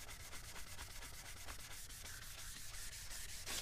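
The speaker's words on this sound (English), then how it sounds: "And make sure you sand all the way to the very edge." Wet sanding of a foggy car headlight with 400 grit sandpaper, a steady close rasp of rapid back-and-forth strokes that continues without pause and has no talking over it.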